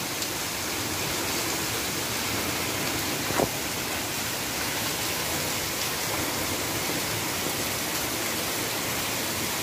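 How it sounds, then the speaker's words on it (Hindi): Heavy rain falling steadily, a dense, even hiss that fills the whole scene without pause, with one brief faint knock partway through and no voices. "कितनी हेवी बारिश हो रही है आप देख सकते हैं।"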